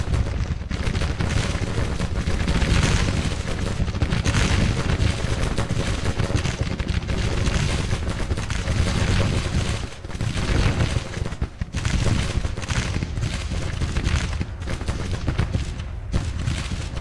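Gunfire and artillery in the Civil War strategy game Grand Tactician, with dense continuous musket volleys crackling and booming cannon fire rolling together in a loud, unbroken battle roar.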